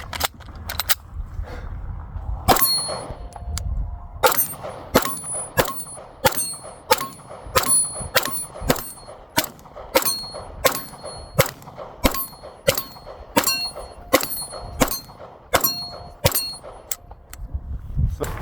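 Rapid pistol fire from a Sig P226 Legion SAO or P226 MK25, each shot followed by the bright metallic ring of a struck steel target, in irregular strings of sharp reports and clangs across the whole stretch.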